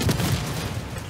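Video game gunfire bursts loudly at the start as rapid booming shots, then trails into a dense rumbling wash of noise.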